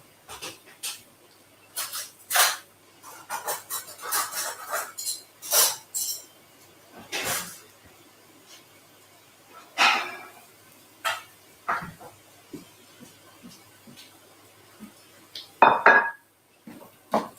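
A spoon scraping and clinking against a pan while cream cheese is added, scattered light metallic knocks and scrapes at irregular intervals, close but fairly soft, with no voices.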